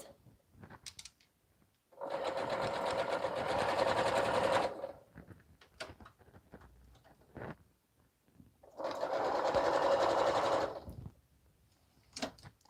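A sewing machine stitches a minky baby blanket in two long, steady runs of close, loud whirring, with a few quiet clicks and handling sounds in the pauses between them.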